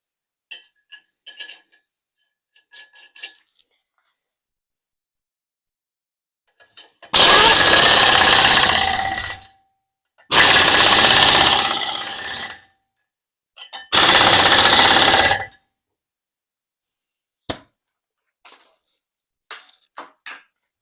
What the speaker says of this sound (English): I'm going to add another lug nut and tighten it up a little bit more